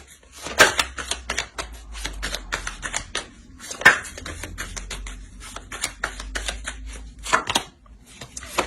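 Tarot cards are drawn, shuffled and laid down in a rapid series of close, crisp flicks and slaps, with a few sharper snaps standing out, and no one talking.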